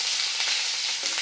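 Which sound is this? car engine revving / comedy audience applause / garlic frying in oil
garlic frying in oil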